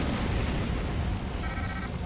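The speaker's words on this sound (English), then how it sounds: "Love those plasma torpedoes." Plasma torpedoes strike targets during a starship battle in Star Trek Online, aboard an old Romulan warbird. The result is a dense, continuous roar of explosive rumble that holds steady and loud for the whole stretch, with no voices.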